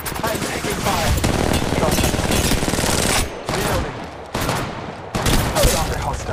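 Rapid automatic gunfire rattles in Apex Legends Mobile, sustained bursts of loud, close shots broken by a few short pauses, with a brief voice under the firing.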